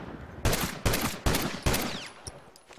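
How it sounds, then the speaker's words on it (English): Gunfire in The Last of Us: four loud, sharp gunshots spaced about a second apart, each ringing out and decaying, followed by faint scattered clicks and noises, with no talk. "he's shooting my people"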